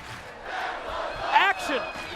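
A wrestling crowd roars and chants at a live match, a dense sustained swell of many voices with shouts rising above, while a commentator talks over the noise.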